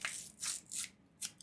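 A Lalvin 71B yeast packet is torn open by hand, heard as a few quick, crisp rips and crinkles of foil-like packaging, close and fairly quiet.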